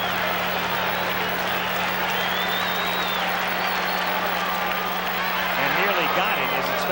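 Crowd at a 1985 World Series baseball game, Royals at Cardinals, hoping for a strikeout, a dense sustained roar and cheering from a large stadium audience that continues throughout with a brief voice near the end.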